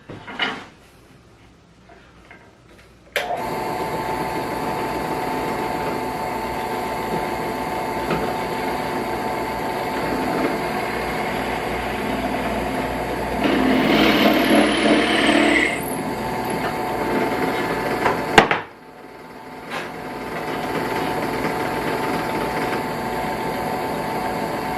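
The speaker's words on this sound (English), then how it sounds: "countersink bit in the drill, and we're going to make a countersink hole on each side" A power drill with a countersink bit bores holes in wood, a steady high motor whine near the mic that strains briefly under load, then stops and restarts for a second hole.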